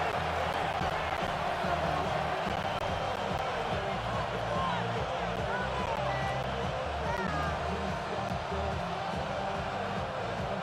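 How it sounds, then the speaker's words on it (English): A Buffalo stadium crowd in a Madden football video game rumbles steadily throughout, a continuous roar and babble of the fans at moderate level with scattered faint whistles and shouts. "The Buffalo crowd being heard before 3rd down."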